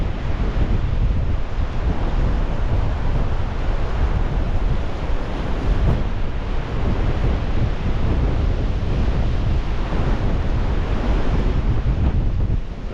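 Rough sea surf breaking on a shingle beach at Hastings on a windy day, a loud, continuous roar of waves with heavy wind buffeting the microphone throughout and no voices.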